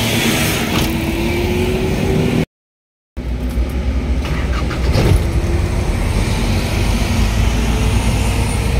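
A 1996 Nissan Power Eagle tricycle engine driving along, a loud steady motor drone with road rumble that briefly cuts to silence before resuming.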